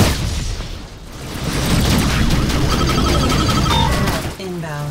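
A missile explosion in the space combat video game Rebel Galaxy Outlaw, heard as a loud, sustained booming rumble with crackling bursts, followed by synthetic alert tones near the end.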